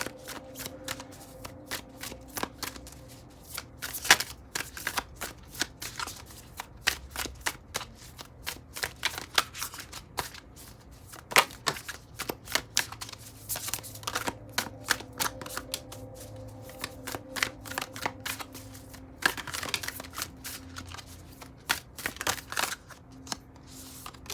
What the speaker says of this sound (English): Cards are very hard to shuffle,